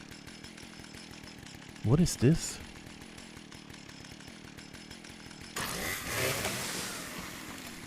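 Chainsaw in Fallout 76: a harsh, revving motor roar that surges briefly and then runs steadily, loud over game sounds, while a person speaks briefly.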